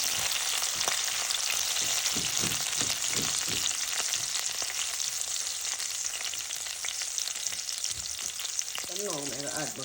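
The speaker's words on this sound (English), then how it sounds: "I'm going to add the pepper with the seed" Chopped hot pepper with its seeds frying in a pan for Jamaican corned beef with caramelized onion, a continuous bright sizzle with a few soft stirring scrapes and a short voice near the end.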